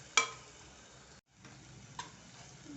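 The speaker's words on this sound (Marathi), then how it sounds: "मंद गॅसवर अगदी तेल सुटेपर्यंत हे आपल्याला परतायचं" Tomato puree masala sautéing in oil on low gas for stuffed tondli, a soft, faint sizzle with a couple of sharp spoon clinks against the pan and a brief dropout.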